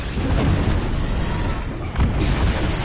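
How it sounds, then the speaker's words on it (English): An airstrike in a video game landing as a run of heavy, rumbling explosions, loud and close, with a fresh boom near the end and no talk over it. "we got an airstrike on us"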